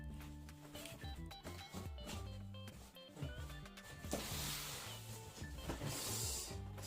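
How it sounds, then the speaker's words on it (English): An Epson EcoTank ET-2820 printer box is opened, with close rustling, rubbing and sliding of cardboard and plastic wrapping and a soft hiss of packaging being pulled. "Let's go open the box."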